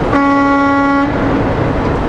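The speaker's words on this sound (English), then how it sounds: "Here's a honk for you guys that are pumping your fists." A truck horn on a highway blasts once, loud and steady for about a second, over the rumble of the moving truck.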